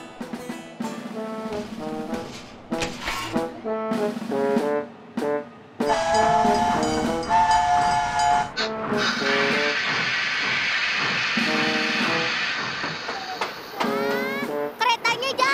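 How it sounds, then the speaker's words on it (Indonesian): A toy train pulls away with hissing steam-like bursts and rising mechanical tones, while people talk and a chime sounds over it. "Kereta siap berangkat."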